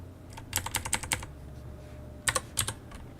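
Programming keystrokes on a computer keyboard: two quick bursts of crisp, close clicks, about six taps, a pause, then four more, with no talking.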